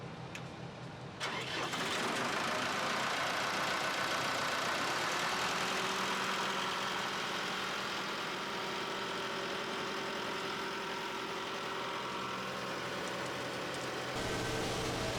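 A concrete pump truck's engine runs steadily and loud on a house-build site, starting with a brief lower rumble before settling into a continuous, dense mechanical drone with no talk over it.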